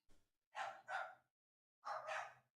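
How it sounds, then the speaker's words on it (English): Dog barking twice in quick doubled bursts, a soft "wuff-wuff" pair followed after a pause by another pair, faint and somewhat distant. "I can hear your dog, Matt."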